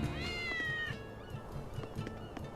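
A cat meowing in the video game Tales of Berseria, with one clear drawn-out meow near the start followed by fainter soft tones over quiet background ambience.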